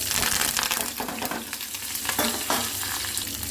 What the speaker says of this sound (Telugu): ఇవన్నీ బాగా ఫ్రై చేసుకోవాలి సో కొంచెం ఆనియన్స్ కూడా వేసుకొని ఫ్రై చేసుకోవాలి